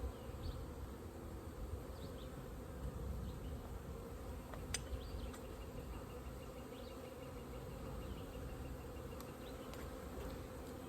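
Honey bees buzz around an open hive on a homestead as a steady, dense hum close by, with occasional individual bees passing and no voices.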